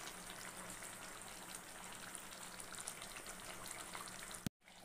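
Chicken sizzles and fries in oil in a pan as it is sautéed for a white chicken dish, a soft, steady crackle that runs continuously before a short break near the end.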